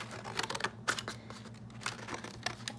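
Scissors cut paper for a paper fish craft, producing a quick series of close, crisp snips and rustles in steady succession.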